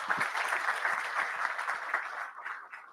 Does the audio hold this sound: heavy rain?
no